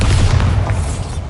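A Bombarda spell blast in the video game Hogwarts Legacy lands as a single heavy, rumbling boom that fills the short moment and fades off, with no talking.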